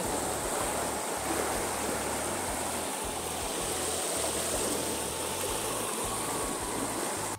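The flooded Krishna river rushes past in a steady, dense roar of flowing water, constant and fairly loud with no talk.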